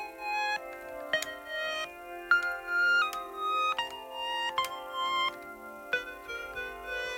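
A faulty PT20 electronic keyboard plays tones that swell in and cut off abruptly, sounding reversed, in a faint, irregular sequence of notes with no talking.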